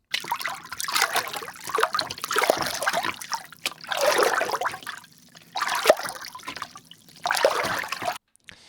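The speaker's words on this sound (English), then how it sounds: "and then I've got these water splashes" Water splashes from a sound effects library come in separate bursts, about five or six sloshing, trickling surges with short silent gaps between them, close and moderately loud.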